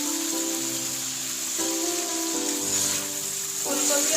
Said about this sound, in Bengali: ফুলকপি আলু দিয়ে মশলার সাথে আরো একটু কষিয়ে দেবো।